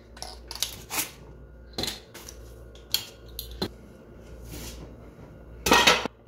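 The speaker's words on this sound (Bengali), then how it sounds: "তো আমি ক্লিপ খুলে নিচ্ছি।" Metal clips on a tightly sealed biryani pot's lid being undone: a series of sharp, close metallic clicks and clanks, spaced irregularly, with faint background hum.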